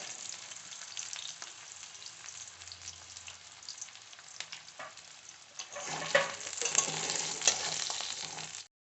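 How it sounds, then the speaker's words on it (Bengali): Chopped onion frying in oil with cumin seeds in a pan, a steady close crackling sizzle that grows louder and denser toward the end, with no voices. "মধ্যে দিয়ে দেবো আগে থেকে কুচানো পেঁয়াজ, দিয়ে অল্প কিছুক্ষণ ভেজে নেব।"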